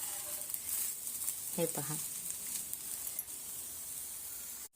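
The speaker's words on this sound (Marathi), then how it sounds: "डोसा आपण थोडा पलटी घालून घेऊ आणि दुसऱ्या बाजूने कमी गॅसवर थोडंसं शेकून घेऊया" A wheat-flour dosa crisps on a pan over a low gas flame with a steady, faint hissing sizzle, broken briefly by a short voice and light clinks before cutting off at the end.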